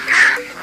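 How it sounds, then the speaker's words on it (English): Raspy squawk of vultures mobbing a carcass, a single harsh call swelling and fading within a moment, close and fairly loud over a faint background. "More vultures arrive."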